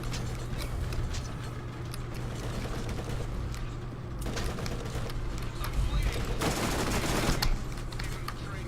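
Gunfire and a grenade explosion in the video game Borderlands, dense rapid shots and a burst of louder blasts near the end, under someone talking.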